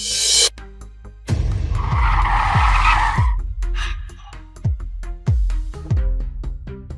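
A car skids to a stop with a loud, drawn-out tire screech lasting about two seconds, followed by several low, heavy thuds close by.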